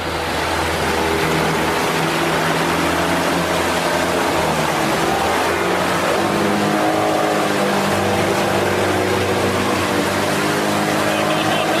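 A boat's motor roars loud and steady throughout, a continuous engine drone with a rising, revving edge, while excited voices exclaim over it.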